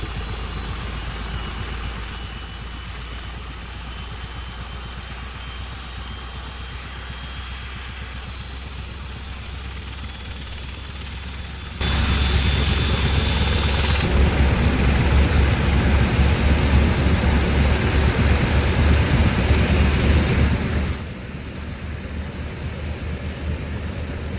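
A Westland Scout or Wasp helicopter in a flight simulator, its engine and rotor making a steady loud drone that swells sharply for several seconds midway, then settles back to a lower whine.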